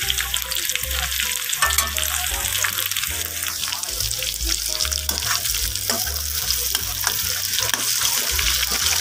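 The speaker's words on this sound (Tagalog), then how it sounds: "piniprito ko muna yung patatas at saka yung carrots pang kaldereta" Potatoes and carrots fry in hot oil for spicy caldereta, giving a loud, continuous crackling sizzle with bursts of bubbling and the occasional scrape of stirring, heard alone and up close throughout.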